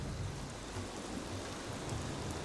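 Torrential rain in the video game Rise of the Tomb Raider pours as a steady, soft, even hiss with a low rumble beneath, continuous and without talking.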